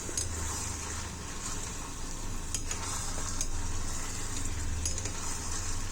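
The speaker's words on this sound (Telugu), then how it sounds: "ఈ అల్లం ఎల్లిగడ్డ బాగా ఫ్రై కావాలి ముందు మనకి" Grated ginger and garlic sizzling in a pan in a home kitchen, a steady low frying hiss with occasional stirring clinks, quiet and continuous.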